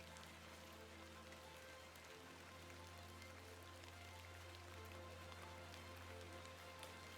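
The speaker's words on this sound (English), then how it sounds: "A bit of rain won't kill me" Steady rain falls in the video game The Excavation of Hob's Barrow, a faint, even patter on surfaces over a low constant hum, with no talking.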